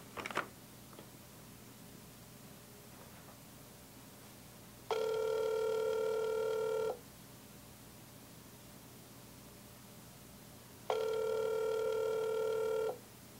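Mobile phone ringing while sealed inside a signal-blocking Faraday pouch, two bursts of bright electronic ringtone about two seconds each, separated by quiet room hiss, loud and close.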